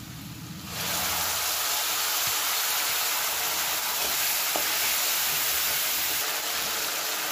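Onions frying in hot oil until reddened, with ginger-garlic paste, for an Odia prawn and potato curry; a steady, dense sizzle runs nearly unbroken throughout after a brief quieter start.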